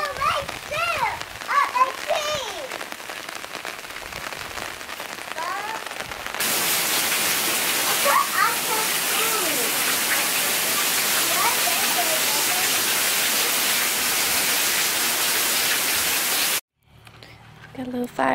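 Steady rain falls loudly and close, probably drumming on an umbrella overhead, with a child and an adult talking over it early on before the downpour fills the sound and then cuts off near the end.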